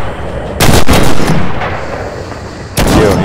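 Artillery shells exploding during a Red Orchestra 2 battle: one loud booming blast with a long rumbling decay and a second blast near the end, both close and with no talk.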